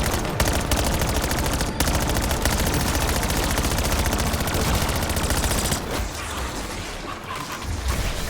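Rapid mini turret gunfire in Black Ops 7 Zombies rattles continuously and loudly for most of the stretch, with dense overlapping shots and a brief thinning near the end, no voices over it.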